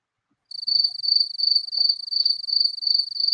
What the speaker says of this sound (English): Cricket chirping.